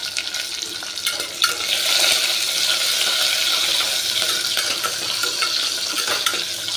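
Curry leaves with dried red and green chillies sizzle and crackle in a hot pan while a spoon stirs and scrapes them, a steady close frying hiss with small pops throughout.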